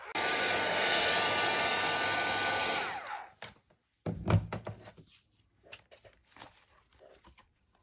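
A heat gun blowing hot air to dry paint, a loud steady whooshing roar for about three seconds that cuts off, followed by scattered soft knocks and handling noises.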